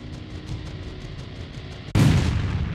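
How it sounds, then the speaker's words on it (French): A low rumbling, crackling background suddenly gives way to a loud blast that keeps roaring and rumbling, like a nearby explosion in the dark, from mines detonating in a minefield. "Des explosions se font entendre dans l'obscurité."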